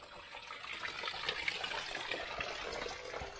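Faint, steady trickle and gush of irrigation water flowing through a cemented channel in a rural province, a soft continuous splashing wash.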